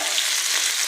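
Chicken tikka frying in oil in a pan, a steady close sizzle with a continuous hiss and no voices.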